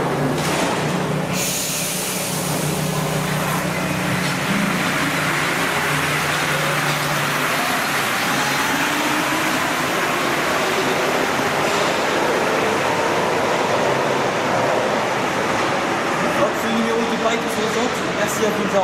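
A Paris metro train pulls away from the platform with a loud, steady rumble of wheels and rushing air, while a motor whine climbs gradually in pitch as the train gathers speed.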